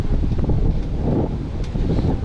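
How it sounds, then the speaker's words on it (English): Strong wind gusts across an exposed high spot in Tiraspol, Transnistria, a continuous loud rumbling buffet on the microphone that swells and eases slightly but never stops. "now the wind's blowing us again. It's well windy today."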